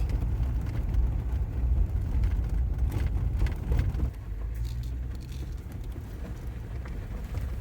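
A Jeep Gladiator driving across the flat, dry playa of the Alvord Desert: a steady low engine and road rumble heard from inside, easing to a softer drone partway through.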